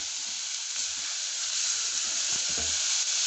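Shredded chicken and vegetables frying in a pan, giving a steady, close hiss of sizzling oil with faint stirring scrapes and soft knocks underneath, no voices.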